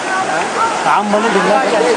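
Floodwater tears through a flooded village as a steady churning torrent, with a voice talking continuously over the rushing water.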